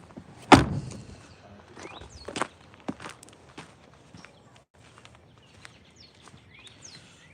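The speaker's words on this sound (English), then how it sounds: "want to close the door on my truck" A truck door closing with one sharp thud near the start, followed by a few fainter knocks, clicks and shuffling in a quiet outdoor setting.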